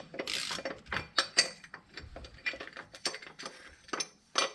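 Rapid, irregular clicking of a ratchet wrench turning a part on a small engine during a compressor and timing cover job, close and crisp, in short bursts with brief pauses.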